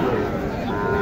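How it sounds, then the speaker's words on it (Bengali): Cattle low and moo amid the crowd noise of a busy livestock market in Naogaon, Bangladesh, where Sahiwal bulls are sold; the calls blend into a steady, dense wall of murmuring and voices. "বাজারে কোয়ালিটি ফুল যত গরু দেখবেন এগুলো তো নান্টু ভাইয়ের"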